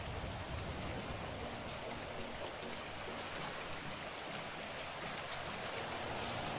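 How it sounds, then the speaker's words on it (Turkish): Rain falling in the video game GTA 5 with graphics mods, a steady, even hiss of rainfall on surfaces throughout, moderately faint with no talk. "Bir de bir yağmur falan yağdırırım arkadaşlar."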